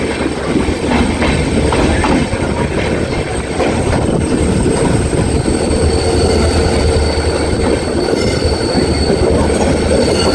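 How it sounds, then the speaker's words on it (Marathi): A fast train roars through a station near Thane, a loud steady rumble of wheels and rushing air with rail squeals and clatter building over the whole pass. "दूर उभे राहा, एक जलद गाडी जाणार आहे."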